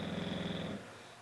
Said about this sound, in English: as Gus snores away.